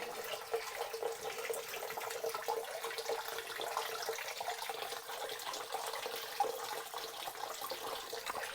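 A Liberty 1/2 sump pump runs and moves water, producing a steady, faint rushing and splashing flow with continuous gurgling texture throughout.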